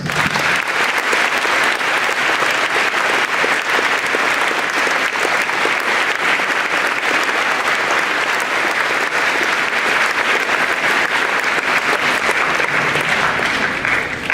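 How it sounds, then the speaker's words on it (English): A gym crowd at a high school Veterans Day ceremony gives a long, loud round of dense applause that stays steady from start to finish. "Please honor all of them once again with a round of applause."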